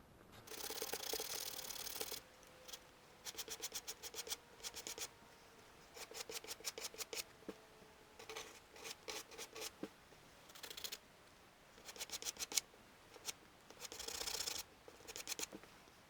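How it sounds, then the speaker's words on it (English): Balsa wood crankbait lure body sanded smooth by hand, producing repeated bursts of dry, gritty scratching strokes that follow a steady back-and-forth rhythm, close and fairly quiet, with no speech. "I'm just gonna sand these sides smooth before I go on to do the chamfer lines."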